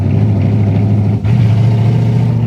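A 1968 Camaro hotrod with an LS engine revs hard and accelerates, its loud, steady low rumble briefly dipping mid-clip before surging again, close up with no talking.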